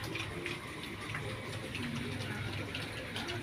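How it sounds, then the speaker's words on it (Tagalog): Steady broadband water flowing in a nearby stream, a continuous rushing wash close to the listener, with faint voices mixed into the background. "Lapit pala kami sa sapa."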